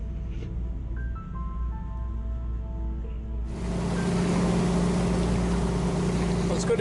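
Boat motoring out of Gladstone toward the Narrows after heat exchanger repairs: a low, steady engine hum with a faint tonal whine, then a sudden louder rush of wind and water that fills the rest, with a voice talking over it.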